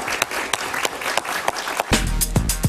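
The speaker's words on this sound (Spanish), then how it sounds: "Un aplauso para él, por favor." A studio audience on a Spanish-language political talk show bursts into sustained applause, a dense wash of many hands clapping loudly and close throughout, with music swelling up underneath toward the end.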